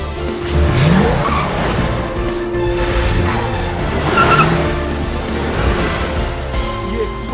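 A car's tires squeal and skid as it parks itself in a Korean drama scene, with a loud drawn-out screech rising and falling over engine noise, close by and dominant.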